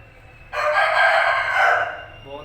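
An Aseel fighting rooster lets out one loud, close crow lasting about a second and a half, with a faint murmur of background noise.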